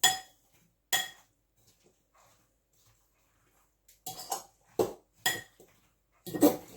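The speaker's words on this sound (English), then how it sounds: "Give it a good stir round." A spoon stirs apple pie filling in a bowl, giving a few sharp, separate clinks against the bowl with quiet gaps between them and a quick cluster of knocks near the end.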